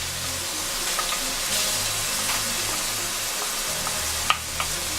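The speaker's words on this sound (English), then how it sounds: "So I'm gonna add my garlic." Garlic sizzles and hisses steadily in hot oil in a pan for vegetable fried rice, close and fairly soft. Faint clicks of a utensil come near the end.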